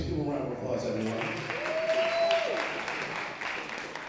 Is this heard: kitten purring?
no